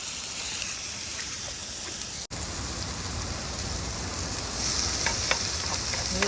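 Food frying in hot oil in a pan, a steady, fine crackling sizzle that carries on throughout, with a few sharper pops near the end.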